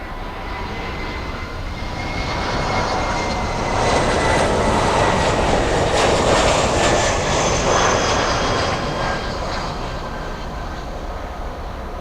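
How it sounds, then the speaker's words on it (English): A Boeing 747 taxiing fast at Miami International Airport, its jet engines giving a loud, steady, broadband roar that swells in the middle as it passes close by, with no voices over it. "It's moving at 24 knots. That is very fast for a 747."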